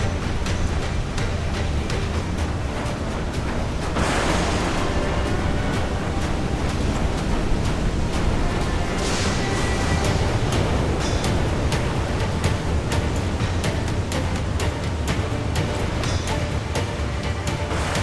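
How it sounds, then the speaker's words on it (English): A waterspout at sea in Assassin's Creed IV: Black Flag roars as a continuous, loud rush of wind and churning surf around a sailing ship, with gusts that swell and fade. "Water spout, man! Stay away!"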